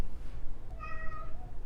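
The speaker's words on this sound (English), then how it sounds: "Do you hear the cat?" A single cat meows once, moderately loud and drawn out, over a low, steady background hum.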